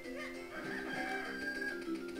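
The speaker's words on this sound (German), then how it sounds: "Wo ist das verdammte Huhn hin?" Chicken clucking and crowing from the video game Zelda: The Minish Cap, faint bird squawks over background game music with no talking.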